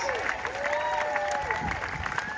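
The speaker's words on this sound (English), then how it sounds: "can we just get a round of applause for all these leaders behind us" A crowd at an outdoor rally against redistricting in Indiana claps for the elected and nonprofit leaders onstage, a steady patter of applause mixed with scattered voices and a few rising whoops.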